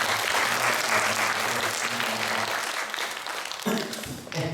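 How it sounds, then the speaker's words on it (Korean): A church congregation applauds together, a steady burst of clapping that fills the room and then thins out before a few last claps. "박수 한번 쳐주세요."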